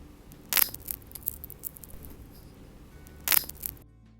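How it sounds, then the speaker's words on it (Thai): A tree branch snaps in the outdoors: two sharp, loud cracks about three seconds apart, each a brief broadband burst standing out over a low, steady background. "เสียงกิ่งไม้หัก"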